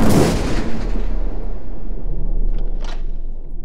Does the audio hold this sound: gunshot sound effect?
yes